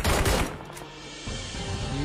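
Gunfire from PUBG Mobile cracks in a quick burst at the start, then fades into a lower rumbling game ambience with a softer thump later on, no voices over it.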